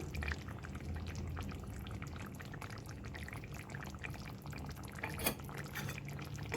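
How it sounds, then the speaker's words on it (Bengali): Ground poppy seed paste going into a pot of Bengali shukto made with mixed vegetables and lentil dumplings, giving faint wet pouring and dripping sounds with a soft plop near the end; no voices. "এবার আমি পোস্তটা দিয়ে দেবো বেটে রাখা পোস্তটা"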